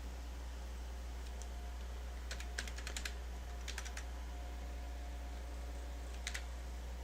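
Quiet computer keys are tapped in a few short bursts of rapid clicks, typing a build command into a terminal, over a steady low hum of background noise.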